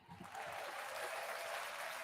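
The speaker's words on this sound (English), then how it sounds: "Round of applause" A brief round of applause during a podcast recording, a soft, slightly distant patter of clapping from a small group that rises quickly and holds steady for a couple of seconds.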